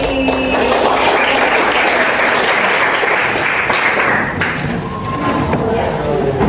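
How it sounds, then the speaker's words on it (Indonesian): A classroom of students claps out a counted rhythmic pattern, bursts of three, four, two and four claps, loud and close, steady throughout with a teacher's voice calling the counts. "tepuk tiga, tepuk empat, tepuk dua, tepuk empat"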